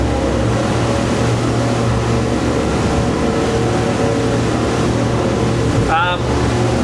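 A Grady White Freedom 415 motorboat runs hard at speed with a steady, loud engine roar and rushing water, and a brief higher chirp cuts through near the end.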